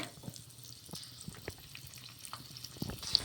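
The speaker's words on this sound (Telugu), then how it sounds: "ఈ వెల్లుల్లి రెబ్బలు కూడా కొద్దిసేపు నూనెలో వేగించుకోవాలి" Garlic cloves and cumin frying in oil in a pan, a quiet, steady sizzle with soft stirring taps throughout.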